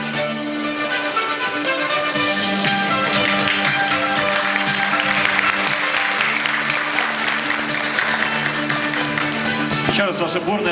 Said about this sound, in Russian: Еще раз ваши бурные аплодисменты нашим магистрантам